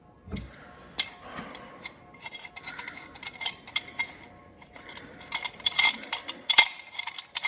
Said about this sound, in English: And then I'll put the C-clamp right on the toe here.